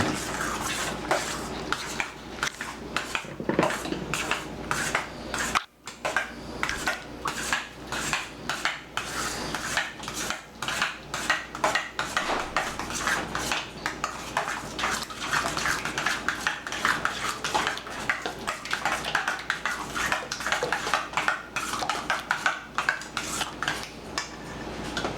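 Spaghetti and beef chunks in mushroom sauce are stirred in a pot, with a long run of rapid, rhythmic utensil scrapes and clinks against the cookware, moderately quiet, with a short pause partway through.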